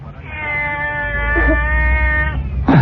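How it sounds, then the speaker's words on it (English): A cat gives one long, drawn-out meow, loud and close, holding steady for about two seconds before breaking off, with room noise underneath and a brief thump at the end. "Is that a cat?"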